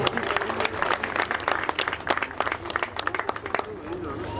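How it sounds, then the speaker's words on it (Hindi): An audience at a community gathering claps loudly in uneven bursts while someone speaks over the applause through a public-address system. "हमारी ये ताली बजा दो भाई"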